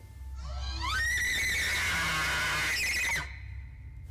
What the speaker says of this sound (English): This high-pitched scream is honestly the last thing I would have expected to hear come out of a moose's mouth.